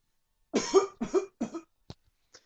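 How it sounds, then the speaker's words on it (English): Three short fake coughs in quick succession, close and fairly loud, followed by a couple of faint clicks and breaths. "that was actually a fake cough."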